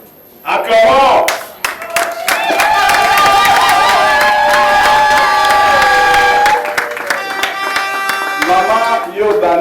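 A crowd of wedding guests at a civil ceremony breaks into loud, sustained applause and cheering, with some shouts and whoops mixed in over the clapping.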